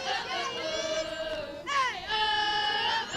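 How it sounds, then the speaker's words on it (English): Softball team cheering and chanting loudly from the dugout during a college game, several voices shouting together in sustained, rising and falling calls that fill the whole stretch. "Your team might be the most cheering team I've ever heard out of a dugout."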